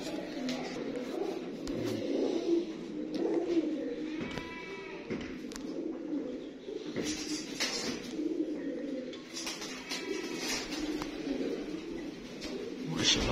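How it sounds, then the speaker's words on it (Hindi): Rooftop flock of French pigeons giving repeated throaty coos, close and moderately loud, with brief pauses and a little faint background noise. "देखिए दोस्तों फ्रांसा कबूतर"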